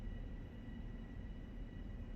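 A Northeast Corridor train stands at Jamaica station in Train Sim World, giving off a steady, close, low rumble and hum that holds evenly throughout with no other sounds on top.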